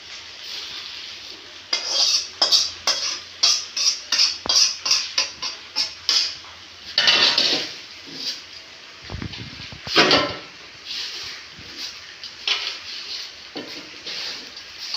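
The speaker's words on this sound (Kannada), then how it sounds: "ಸ್ವಲ್ಪ ಬಿಸಿ ಇದ್ದಾಗ ಮಿಕ್ಸ್ ಮಾಡ್ಕೊಳ್ಳೋಣ" Avalakki masala chivda, a spiced flattened-rice snack, being stirred in a pan, giving a quick rhythmic run of scraping clinks that becomes looser, more scattered scraping and tossing. It is close up with no talking.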